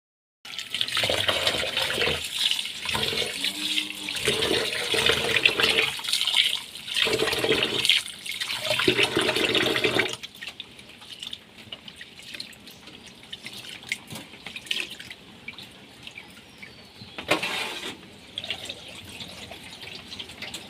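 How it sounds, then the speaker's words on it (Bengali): Rice being rinsed in water before cooking khichuri: about ten seconds of sloshing, swirling water and dripping, then quieter trickles and occasional drips with one brief splash later on. "তো চালটা আমি ধুয়ে রেডি করে নিই"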